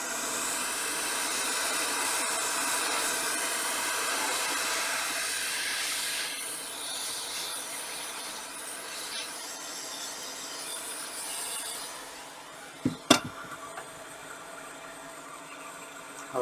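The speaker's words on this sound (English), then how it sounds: "put the battery, and use some hot air to" A hot air blower melting shrink tube over a laptop CMOS battery on a Lenovo ThinkPad X1 Yoga 3rd Gen makes a loud, steady rushing hiss. It fades near the end, followed by a couple of sharp knocks.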